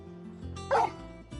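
A dog in the Final Fantasy 16 video game gives a short, loud bark with yips and a faint whimper, one sharp burst over a low musical backdrop.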